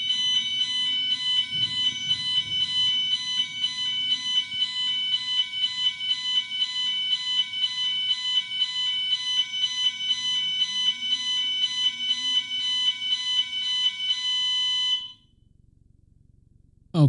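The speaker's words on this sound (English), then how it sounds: "It looks like this alarm now goes off every time I go live." A smoke or fire alarm shrills in rapid, evenly pulsing high beeps for about fifteen seconds, loud and indoors, then cuts off abruptly, leaving quiet room noise.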